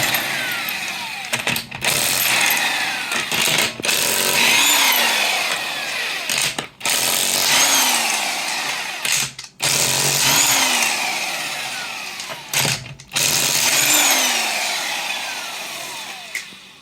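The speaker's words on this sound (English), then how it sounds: "This is very economical impact wrench, electrical, not air powered, from Harbor Freight." A budget electric (not air-powered) Harbor Freight impact wrench hammers at car wheel lug nuts on a 2020 Hyundai Elantra, loud and close in long rattling bursts broken by brief pauses.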